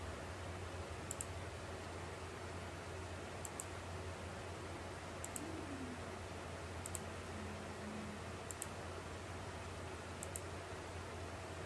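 A computer mouse clicking while modelling a sports car wheel in Autodesk Inventor: single sharp clicks at even intervals of about a second and a half over a steady background hiss, with no speech.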